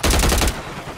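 Shotgun fire in Call of Duty, a single loud, close blast that booms for about half a second and then decays into a rumbling tail.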